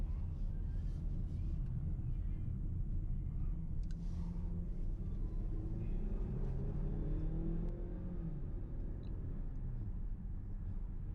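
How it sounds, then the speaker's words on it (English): A 2020 Ford Escape Titanium in sport mode, engine note rising and dropping as paddle shifts change gears, a steady near cabin drone with road rumble throughout. "Now I'm going to put it in sport mode and play with the paddle shifters."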